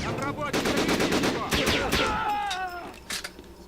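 Rapid gunfire bursts from the video game Syphon Filter: The Omega Strain, loud and close, layered with other game sounds and some talk.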